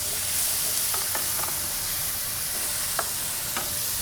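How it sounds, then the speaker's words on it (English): Potatoes cooking in coconut milk in a pan give off a steady, soft sizzle and bubbling hiss, with a few brief clinks and stirring scrapes, heard close up and unbroken throughout. "So I like to get the potatoes in here to give them a head start cooking"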